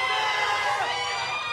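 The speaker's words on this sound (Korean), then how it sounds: "응원의 함성이 막 뜨거우니까" Crowd cheering at the opening match of a 2015 Blade & Soul tournament in Korea, a loud, sustained wash of shouts and cheers filling the whole moment with no break.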